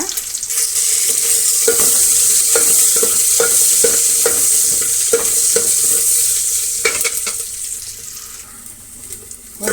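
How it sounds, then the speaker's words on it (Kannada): Loud, close sizzling of onion and curry leaves frying in hot oil with rhythmic scraping strokes of a spatula, settling toward the end. "ಸ್ವಲ್ಪ ಈರುಳ್ಳಿ ಸ್ವಲ್ಪ ಕರಿಬೇವಿನ ಸೊಪ್ಪನ್ನು ಸೇರಿಸಿ ಇವನ್ನು ಫ್ರೈ ಮಾಡೋಣ"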